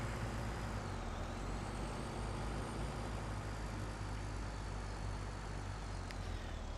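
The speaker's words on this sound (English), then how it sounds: "So let's just swing the truck around" A truck turns and maneuvers around a farm while hauling hay, its engine a steady low rumble throughout, with a faint whine above and a brief hiss near the end.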